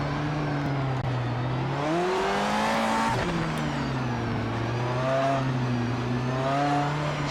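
Race car engine in the driving game Project Motor Racing drones loudly and steadily throughout, rising and falling in pitch through upshifts and throttle changes, with no talking over it.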